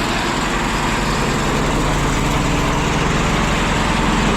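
The engine of an old Russian DT-75 tractor runs steadily, close and loud, with a dense, even rattling drone that never changes. There is no talking.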